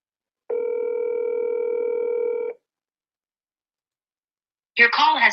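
A phone line gives one steady electronic tone lasting about two seconds while a number is being redialed. Silence follows, then a voice speaks briefly.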